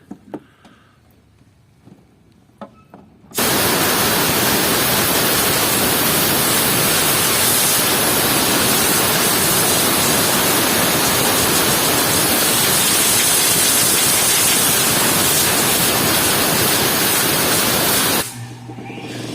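Compressed air blasting debris out of the intercooler of a 2015 BMW X3 during a radiator replacement, a loud steady hiss that starts abruptly after a few quiet seconds and runs about fifteen seconds before cutting off.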